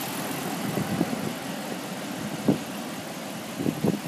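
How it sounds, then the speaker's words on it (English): A 2014 Dodge Ram 1500 Laramie with a Ram air intake runs at a steady idle, its engine a constant low rumble heard up close with a few faint knocks and thumps over the hum. "As you can see, engine's running very good."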